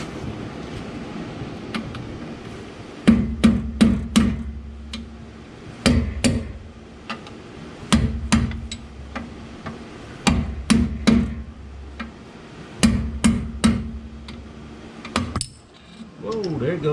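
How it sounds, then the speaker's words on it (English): A hammer taps out a greasy wheel bearing from an axle hub in sharp, close metallic blows, single and in quick pairs, every second or two over a low background hum. "you want to tap it on all four sides to get it to come out smooth"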